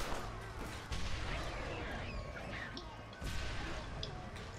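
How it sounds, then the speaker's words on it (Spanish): Repeated explosions in the zombie-apocalypse game Red Dead Redemption: Undead Nightmare, with dynamite and molotovs in play: a dense, continuous rumble of bursts and crashes with sharper booms near the one- and three-second marks, no talk. "Madre mía, cuánta explosión"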